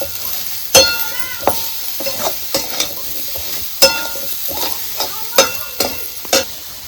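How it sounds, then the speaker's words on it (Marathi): Moringa drumstick pods being stirred in a frying pan for a village-style vegetable dish, with steady sizzling broken by repeated scraping clinks of the spoon against the pan, close and without talk. "आता हे शेंगा टाकायचे आपल्याला सगळी सगळीकडून हलवून घ्यायची"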